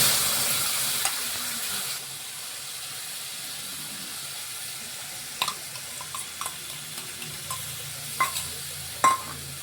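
Ground spice paste frying with lightly browned onions for Bhola fish jhal, a soft sizzling hiss under occasional spoon clinks and stirring scrapes, quiet and close.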